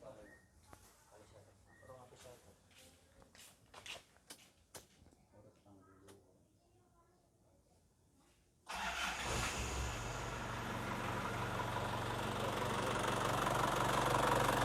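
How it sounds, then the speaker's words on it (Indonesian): Handling noises and a voice give way to an Isuzu Panther engine starting, then a loud, steady idle rumbling close by. "Saya nyalakan dulu mesinnya."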